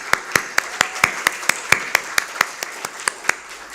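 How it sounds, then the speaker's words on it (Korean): A church congregation at a Korean Sunday service gives welcoming applause, heard as a quick, fairly even series of about fifteen sharp claps, close and distinct, with no talk. "우리 환영의 박수 하겠습니다."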